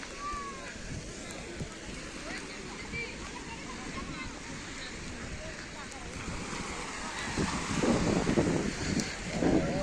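Sea waves wash at Somnath beach on the Gujarat coast, a steady rushing surf with wind noise that swells louder near the end, while voices talk faintly in the background.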